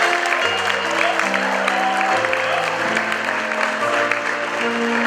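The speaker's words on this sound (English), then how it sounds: "A round of applause for him, ladies and gentlemen" Audience at a graduation ceremony attended by the Asantehene and Lady Julia Osei Tutu applauds as an honoree mounts the podium, sustained clapping over held musical tones filling the hall.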